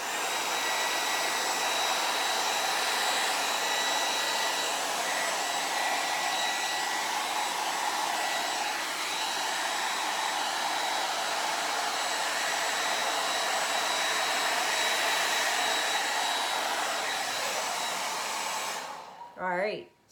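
A hair dryer blows acrylic paint across a large wood round in a Dutch pour, a steady loud whooshing hum with a faint whine held for nearly twenty seconds, then switching off with a short clunk.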